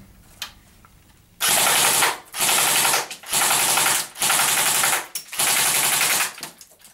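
An Elite Force ARX160 airsoft AEG on a 7.4 V LiPo battery firing full-auto in five loud, close bursts of rapid buzzing clatter, each about a second long, separated by short pauses.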